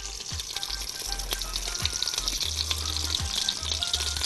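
A pot of bessara fava bean puree sizzles and bubbles steadily on the stove as it is stirred, with occasional low soft bumps and scrapes, close and fairly quiet, no voices.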